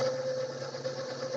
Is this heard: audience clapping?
no